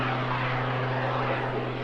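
Jet aircraft hovering vertically at a seaside airshow, heard as a steady, loud engine roar with a constant low drone that holds unbroken throughout and no voices over it.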